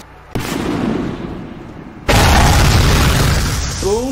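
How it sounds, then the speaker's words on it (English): A loud explosion booms in inFAMOUS Second Son, followed by a second, heavier blast that sustains a rumbling roar for about two seconds, with brief tonal sweeps near the end. "Boom goes the dynamite."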